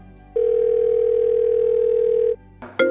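A steady telephone tone drones for about two seconds, loud and close, then stops and a brief electronic chirp follows.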